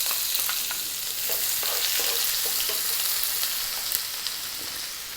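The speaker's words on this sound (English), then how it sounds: "And then we're going to go in with the onion." Onion frying in hot oil with cardamom pods and black mustard seeds while being stirred, a steady close sizzle with faint scraping and clinks throughout, no talking.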